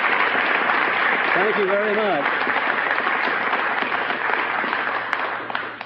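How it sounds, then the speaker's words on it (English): Audience applause fills a speech hall, dense and steady throughout, with a voice speaking briefly over it partway through. "People just don't applaud like that with their hands and their heads."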